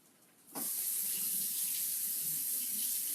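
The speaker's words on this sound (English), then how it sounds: "Give it a good rinse." Tap water switches on abruptly and runs steadily to rinse a zucchini at a kitchen sink, a close, constant splashing hiss after a brief quiet start.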